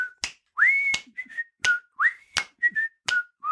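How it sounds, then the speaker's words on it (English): A person whistles the theme song of The Andy Griffith Show, a bright, clear melody of short sliding notes and brief held tones in a bouncy rhythm, close and alone, with light clicks between phrases. "Whistling, correct?"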